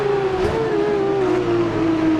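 Race car engine in the video game Automobilista 2 holds a steady, loud, buzzing drone at roughly constant revs, with a slight dip in pitch partway through and no talking over it.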